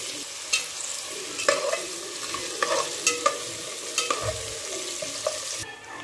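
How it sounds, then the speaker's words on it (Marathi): Onions fry in hot oil and ghee for a vegetable biryani, giving a steady close sizzle with repeated sharp scrapes and clicks of stirring against the pan. "तेल आपलं छान तापलेलं आहे, त्याच्यात कांदा परतून घ्यायचा लाल करून"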